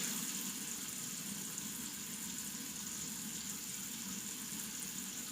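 Water running and splashing steadily in a sink while someone washes their face with cupped hands, a continuous close, soft wash of noise with no talking.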